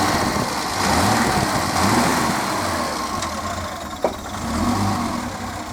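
The engine of a 1966 Mercedes 230SL Pagoda with automatic transmission ticks over at idle, a steady low rumble close by, with a brief sharp click near the middle.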